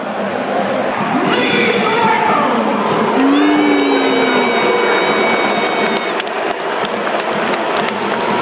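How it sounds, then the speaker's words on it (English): Rugby league stadium crowd at the Magic Weekend, Leeds Rhinos against Wigan Warriors, cheering loudly as a Mexican wave sweeps around the stands, with a sustained roar and rising shouts that swell and fade. "Currently a Mexican wave coming around the crowd"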